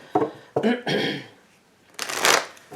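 A deck of Kabbalah Tree of Life oracle cards is shuffled close up in several quick riffling bursts separated by short pauses.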